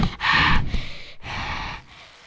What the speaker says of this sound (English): Hear my breathing.